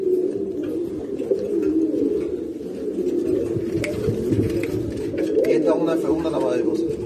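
Close, continuous cooing from breeder racing pigeons in a loft, layered and murmuring, while someone talks over the birds and brief taps and flutters cut through.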